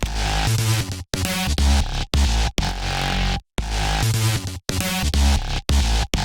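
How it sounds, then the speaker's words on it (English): A full bass-heavy mix in Ableton Live with the bass ducked by multiband sidechain compression, with repeated sharp dropouts, the sound swelling and cutting in a pumping rhythm, loud with no voices. "The bass by itself sounds like this."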